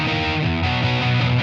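A heavily distorted electric guitar chugs steadily through a simulated amp cabinet with a thick, boxy tone, loud and sustained throughout with no talking.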